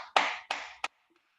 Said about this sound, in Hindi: अपने लिए जोरदार ताली बजानी है